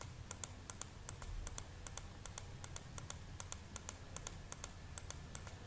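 Computer mouse clicking while working in AutoCAD, a quiet series of sharp, evenly repeated clicks over faint room hiss, with no voice.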